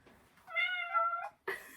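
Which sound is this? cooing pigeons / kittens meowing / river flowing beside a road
kittens meowing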